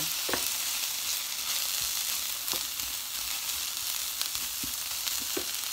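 Garlic and ginger with onion being stirred and fried in a pan for chicken pork adobo in coconut milk, a steady close sizzle broken by repeated scraping knocks of the spoon against the pan.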